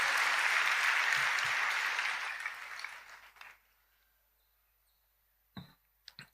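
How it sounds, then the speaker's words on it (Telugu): A church congregation claps in a full, even burst of applause that fades out after about three seconds, followed by near silence and a couple of faint clicks. "గట్టిగా చప్పట్లు కొట్టి దేవునికి స్తోత్రం చెప్తూ మహింపరుద్దామా?"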